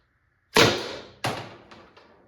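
Two sharp shots from a Byrna SD less lethal launcher fitted with a lighter, longer valve spring fire in quick succession, each with a bright crack that trails off, followed by fainter impacts; no talking.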